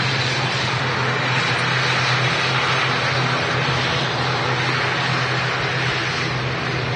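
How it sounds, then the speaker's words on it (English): A Loganair ATR turboprop airliner taxis at Manchester Airport, its engines giving a steady, loud, continuous drone with broadband roar that holds level throughout, with no talking. "The Loganair ATR heading to the Isle of Man."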